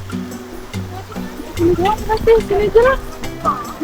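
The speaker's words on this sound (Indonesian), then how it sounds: "melewati sungai yang cukup deras guys di sini guys" Fast-flowing river water rushes through a ravine on a hiking trail in the Kalikuning area, a steady broadband wash beneath people talking close by.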